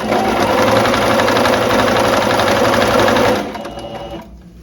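Sewing machine stitching stretched shirred elastic fabric on a long dress, a loud fast continuous needle rattle that slows and fades out near the end.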